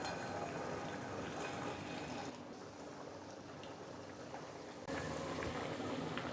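Potato tikkis sizzle in hot oil over a medium flame, a steady close frying hiss that drops in level partway through and then rises again, with no voices.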